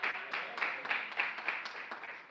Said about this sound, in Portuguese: Palmas de vitória para Jesus de Nazaré.